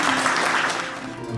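Applause at a graduation ceremony in Saint-Louis, a steady wash of clapping from a seated audience filling the short moment, with no voices over it.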